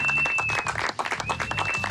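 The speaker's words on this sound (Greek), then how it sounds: "Χειροκρότημα για τον Jim Boy." An audience at a live show applauds, a dense burst of clapping that briefly dips before resuming, loud and close, with a faint tone audible beneath.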